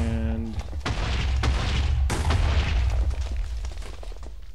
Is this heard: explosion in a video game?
yes